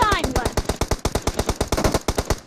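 Rapid automatic fire from a Scar-L rifle in a team deathmatch video game, a steady string of sharp, evenly spaced shots, loud and close, with a brief voice at the start.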